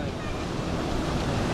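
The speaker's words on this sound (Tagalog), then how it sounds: "Malalaking alon oh." Big ocean waves roll and wash onto the shore in a steady, dense roar, with heavy wind buffeting throughout and no distinct break.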